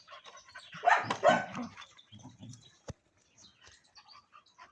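Dogs bark in a burst of several loud, overlapping barks, then quieter scattered yelps follow with a sharp knock partway through.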